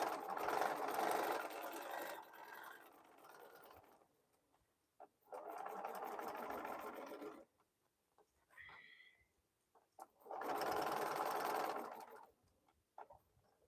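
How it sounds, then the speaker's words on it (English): A sewing machine stitches fabric bowl cozies in three steady bursts of several seconds each, separated by quiet pauses, with a faint chirp between runs. "I can go ahead and sew."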